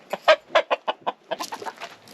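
A flock of hens and a rooster at a farm in Mexico cluck loudly and close in quick, agitated bursts, with a denser chattering run toward the end.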